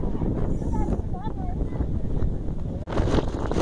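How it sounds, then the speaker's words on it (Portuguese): Strong gusting wind buffets the microphone on a long beach walk, a loud continuous roar with brief gaps, while voices are faintly audible underneath. "A ventania tá muito forte, fazendo com que nos cansemos mais ainda."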